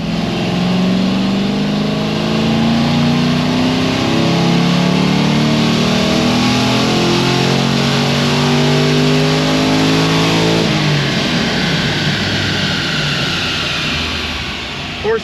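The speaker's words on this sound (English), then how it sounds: "You'll see the pull." A Pontiac GTO with an LS2 V8, aftermarket heads and cam roars loudly on a dyno pull, its pitch climbing steadily through the gears before the engine drops off near the end.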